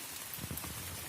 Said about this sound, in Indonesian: Tapi masih hujan.